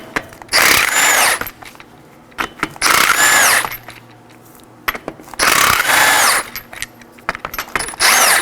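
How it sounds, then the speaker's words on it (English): A power tool with a 21mm socket spins off the five wheel lug nuts on a 2013-2019 Nissan Sentra 1.8L, in three loud, whirring bursts with quieter gaps between them. "I'll be using a 21mm socket to remove those."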